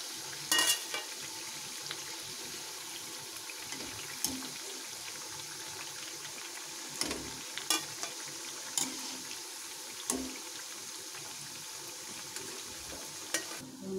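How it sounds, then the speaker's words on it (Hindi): Colocasia (arbi) leaf pakoras frying in hot oil give a steady sizzle, with occasional sharp clinks and taps of a utensil stirring the pan, close by and with no voices. "हम इसमें और डाल देंगे फ्राई होने के लिए"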